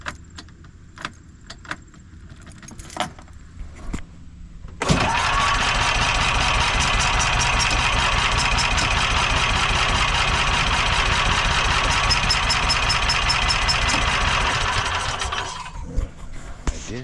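A Toro Workman utility vehicle with carburetor trouble runs on prime: after a few seconds of clicks and knocks the engine catches and idles loudly and steadily, then cuts out near the end.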